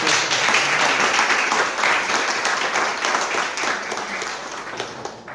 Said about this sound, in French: on peut les applaudir pour les applaudir